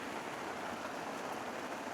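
Heavy typhoon rain pours steadily over a melon field, a dense continuous hiss of drops on the ground and surfaces with no pauses, fairly faint and even throughout.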